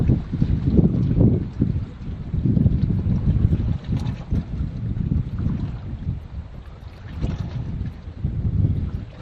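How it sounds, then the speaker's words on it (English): Strong wind buffeting the microphone at a coastal headland at Crookhaven Heads, loud rumbling gusts that swell and ease in waves for several seconds, with no voices. "how long can I put up with that amount of wind?"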